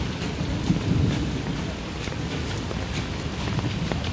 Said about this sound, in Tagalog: Kung naririnig ninyo yung kulog.